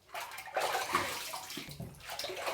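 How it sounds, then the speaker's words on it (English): Water scooped from a bowl is poured over skin during a rinse, giving a few close splashing, sloshing bursts that swell and fade over a couple of seconds, with no talking. "Let's rinse."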